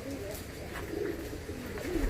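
Soft, low dove coos repeat a few times at moderate distance over a murky background.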